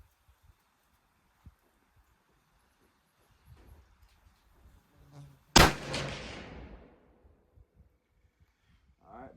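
A single sharp, loud rifle shot from a Ruger American in .270 Win firing 130-grain jacketed soft point ammunition outdoors, ringing out and decaying over about a second amid faint handling noises and quiet talk.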